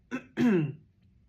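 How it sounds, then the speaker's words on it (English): A man clears his throat once, a short rasp followed by a louder, longer guttural clearing, close and fairly quiet, then silence. "I've got a cough"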